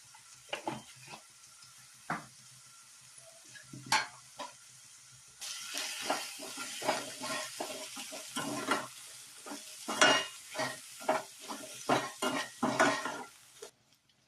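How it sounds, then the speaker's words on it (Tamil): Potato and green peas salted and sautéed in a pan, with a steady sizzle and repeated close, sharp scrapes and clinks of a spoon stirring against the metal pan, growing busier midway. "ஒரு 2 செகண்ட் நல்லா வதக்கி விடலாம்"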